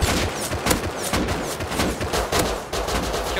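Rapid gunfire from a firefight in the survival video game Rust, with dense bursts of shots crackling one after another and no pause across the whole stretch.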